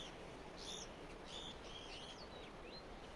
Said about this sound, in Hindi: और तोते भी आने लगे अब तो,